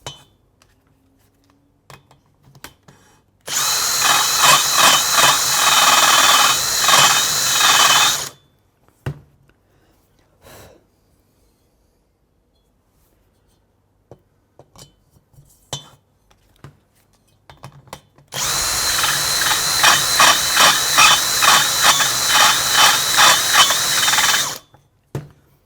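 A cutter machining a valve seat in a Moto Guzzi Le Mans cylinder head: two long bursts of harsh, rattling, vibrating metal grinding, each several seconds, separated by quiet stretches with small clinks and handling noises.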